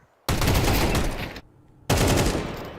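Rapid automatic gunfire in a Counter-Strike match at IEM Katowice 2025, two loud, dense bursts of close shots separated by a brief near-silent pause.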